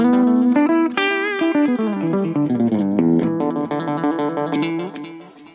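An electric guitar runs through the delay effect of a Roland Micro Cube amp, with chords and notes ringing out and repeating echoes trailing each phrase, loud and close and steady throughout.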